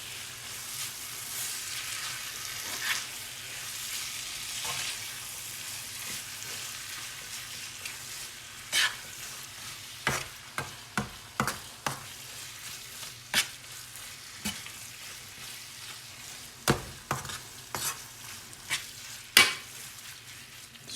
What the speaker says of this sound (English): We're gonna crisp up the tortilla in a dry skillet